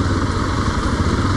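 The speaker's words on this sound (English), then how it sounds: "trucks crossing the road, buses, motorcycles" Engines of motorcycles and trucks at a busy Kenya border crossing make a loud, steady, close rumble with a continuous idling drone and no talk.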